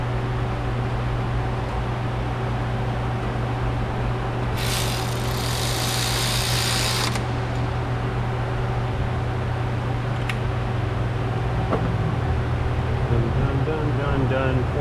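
A vacuum pump runs steadily during a vacuuming procedure, a constant droning hum with low tonal lines and a brief hissy burst partway through.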